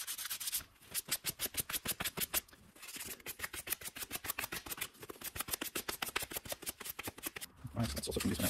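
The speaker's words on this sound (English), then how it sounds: "just sand it a little bit with a very fine sandpaper" Very fine sandpaper rubs back and forth on a part of a 1982 Jawa Babetta 207 moped, making quick, even rasping strokes in a steady rhythm with a few short pauses. The sound is close and quiet.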